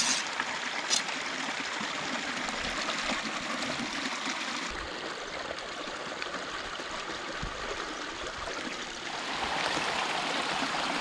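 Water rushes steadily through a breached beaver dam, a continuous broad wash of flowing stream noise that holds constant throughout at moderate level, with no voices.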